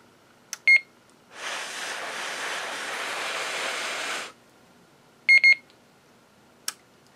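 A Snap Circuits recorder kit gives a short electronic beep, then a steady rush of wind noise lasts about three seconds as someone blows into its microphone, followed by a quick double beep and a faint click, alone in a quiet room.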